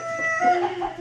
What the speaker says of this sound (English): So here are lavender Orpington roosters.